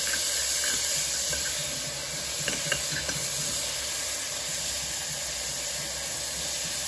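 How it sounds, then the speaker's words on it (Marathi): Tomatoes sauté in a pan with whole spices for masala bhat, giving a continuous steady hiss and sizzle close by, with a few faint clicks of stirring and no talk. "टमाट्याला चांगलं परतून घ्यायचं।"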